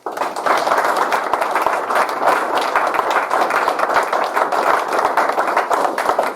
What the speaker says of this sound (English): to give them a round of applause